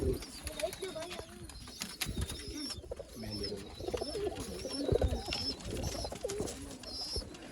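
Old line pigeons kept for sale in Bangalore coo in low, throaty rolling calls, several birds overlapping continuously, with faint background voices and occasional higher chirps.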